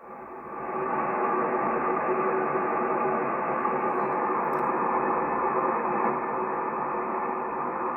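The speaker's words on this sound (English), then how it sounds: "Let's listen to the white noise of the band with full preamp on" Steady hiss of an empty HF ham radio band with the full preamp on, a continuous broadband noise that fades in over the first second and then holds even and loud throughout, with no voices or signals.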